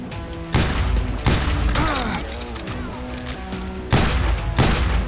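Gunfire in the Western shooter game Call of Juarez Gunslinger: several loud, close shots burst out at irregular intervals over ringing, reverberant game audio and mechanical effects.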